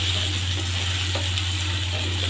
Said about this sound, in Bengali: এখন এর মধ্যে আমি 2 মুঠো মানে হাত দিয়ে 2 মুঠ পেঁয়াজ কুচি দিয়ে দিয়েছি। এখন এটা হালকা করে ভাজবো।